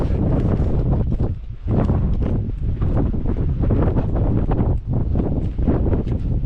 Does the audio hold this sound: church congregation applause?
no